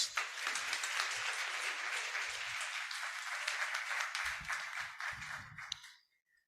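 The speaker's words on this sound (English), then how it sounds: "a huge round of applause for sir" Applause fills a hall at a Teachers' Day programme, dense and sustained for several seconds before tapering off and stopping abruptly near the end.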